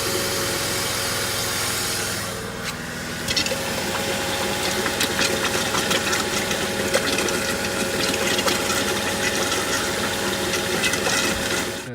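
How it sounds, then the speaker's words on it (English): BMW E36 power steering pump running with the engine idling during a fluid flush, a steady mechanical whir and hum with a slight dip early on, close and continuous with no talk. "I'm gonna start steering, turning to the right or left, so making the fluid going through all the ways and lines"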